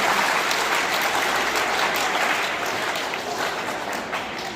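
Applause from an audience at a primary school quiz competition in Juna Deesa, a steady, dense clapping that fills the whole stretch and eases off slightly toward the end.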